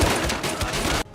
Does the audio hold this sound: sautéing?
no